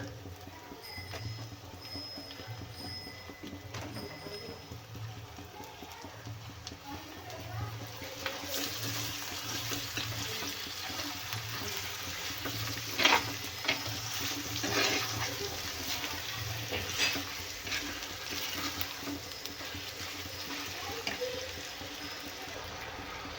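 Cleaned mutton sautéing in a pan, a steady soft sizzle and frying crackle with occasional stirring scrapes and clinks, continuous and moderately close throughout.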